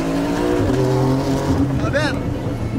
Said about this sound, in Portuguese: eu tava testando o launch control do meu carro, sem controle de tração